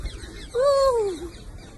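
A parrot perched on a person's head gives a single clear, drawn-out call that swoops up and then down, close and fairly loud against a quiet background.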